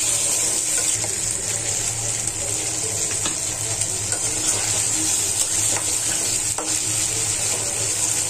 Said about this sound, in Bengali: ভালো করে নাড়াচাড়া করে নেবো, ভাজবো না, খুব বেশি ভাজবো না, হালকা করে একটু